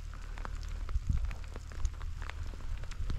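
Rain falls outdoors in a steady, close wash of patter, with scattered louder drops hitting a surface throughout.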